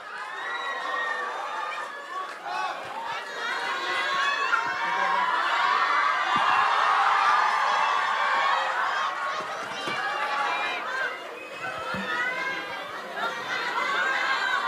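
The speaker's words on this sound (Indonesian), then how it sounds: "Tepuk tangan untuk Tom Lembong." A large crowd applauds and cheers for Tom Lembong as he is called up onto a stage, a dense sustained roar of clapping, shouts and whoops that swells mid-clip and lasts throughout.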